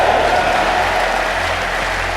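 Congregation in a church service clapping hands, a dense, steady wash of applause held at an even level throughout.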